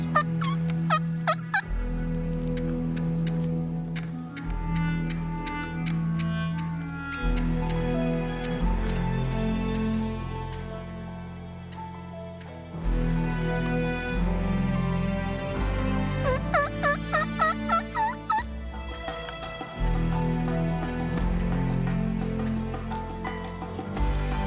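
A flock of wild turkeys gobbles in the field during a spring hunt in Montérégie and Ontario, loud rattling calls bursting out repeatedly, overlapping from several birds close by, with a steady patter like rain underneath.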